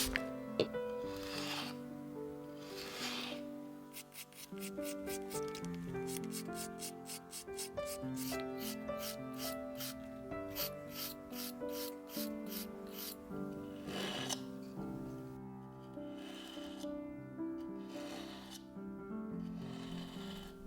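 A carving knife blade stroked over sandpaper, giving a steady run of rhythmic scraping passes, some quick and evenly spaced, heard close up over a low background hum with no talk.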